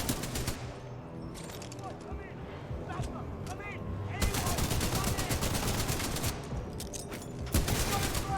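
Rapid, dense automatic turret gunfire in the Titanfall 2 campaign, continuous rattling bursts that grow louder partway through and persist to the end, with a voice talking over the shooting.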